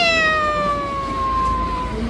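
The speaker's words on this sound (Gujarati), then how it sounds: "પેલા એક બિલાડી હતી ને તો મ્યાઉ મ્યાઉ બોલતી હતી" A cat gives one long, drawn-out meow that slowly falls in pitch, close and clear over a low background rumble, with no talking.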